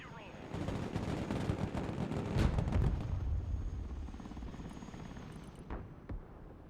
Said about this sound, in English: Cargo helicopter approaching the TZ.